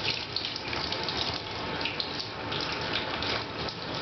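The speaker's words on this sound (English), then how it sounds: "a full blast of a hose that's not always very easy to control" Water running from a hose at full blast during a dog bath, a steady close hiss and gush that continues unbroken throughout, with no voices.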